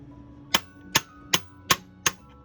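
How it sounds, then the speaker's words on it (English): A steel chisel is struck five times at an even rhythm to pry a BGA chip off a laptop board, each hit a sharp, close metallic clang with a short ring, separated by a quiet background. "So I usually just have a chisel. And of course, you just want to get it right at the edge of it."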